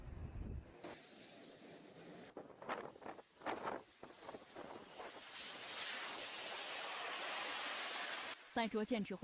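J-15 fighter jets roar over an aircraft carrier deck at night during landing and takeoff operations. A loud, steady broadband roar carries a high whine and swells toward the end, then cuts off abruptly.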